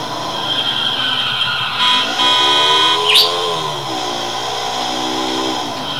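A motorcycle engine in Grand Theft Auto 4 drones and revs continuously, loud and close, with pitch rising and falling as the bike accelerates, plus a sharp scrape midway.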